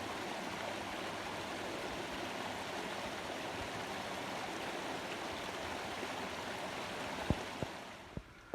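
A creek flows steadily on the way up toward Maidenhair Falls, a continuous close wash of rushing water with no speech, a few sharp knocks near the end.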